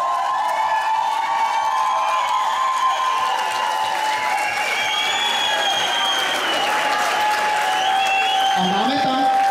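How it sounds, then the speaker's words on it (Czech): A ball crowd at a midnight surprise in Chodov breaks into thunderous, frenetic applause, dense clapping mixed with cheers and whistles, loud and continuous from start to finish. "To je bouřlivý potlesk"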